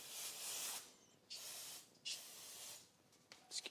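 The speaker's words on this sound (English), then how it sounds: "Now we're going to spray these brackets." Several short hissing bursts from an aerosol can of brake cleaner sprayed onto brake brackets, each lasting under a second, with quiet gaps between and a couple of quick final puffs.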